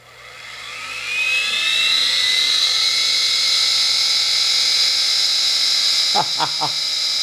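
A small vacuum cleaner motor run at 15 volts spins up with a rising whine to over 7,000 RPM and settles into a loud, steady high-pitched drone, with a few brief knocks near the end.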